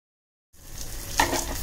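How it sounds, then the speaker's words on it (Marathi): Bitter gourd pieces shallow frying in a little oil over medium-high heat, a sizzle that starts abruptly after brief silence and holds steady, close, with a small clink partway through. "चांगला रंग बदलेपर्यंत फ्राय झालं पाहिजे."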